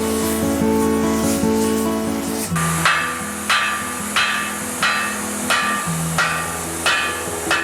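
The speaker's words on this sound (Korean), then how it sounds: "두 번째는 열을 가해서 두드렸을 때 그 두드려져 나갈 때마다 쇠가" Hammer blows on heated iron while forging an iron sculpture: a steady series of about eight sharp metallic strikes at an even rhythm, close and loud, following a sustained hum.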